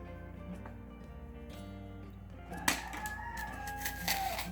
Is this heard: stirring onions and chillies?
no